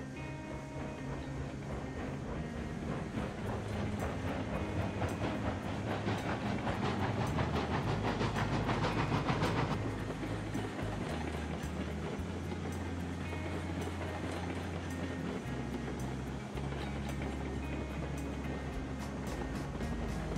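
A train running on rails in Railroads Online, a steady rumble with rhythmic clickety-clack and hiss, sustained and fairly close throughout.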